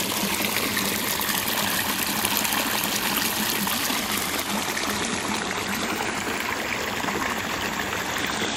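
Niagara Falls roars as a steady, loud wall of rushing water, constant and unbroken throughout with no talking.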